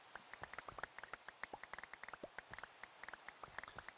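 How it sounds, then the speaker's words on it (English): Rain falling outdoors, heard as many quick, irregular drops tapping on a surface over a quiet hiss, faint and close, with no talking. "It's always raining."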